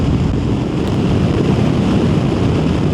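Strong wind roars steadily into the microphone on a motorcycle ride over a bumpy Scottish mountain pass, a loud continuous low-heavy buffeting rush with no pauses.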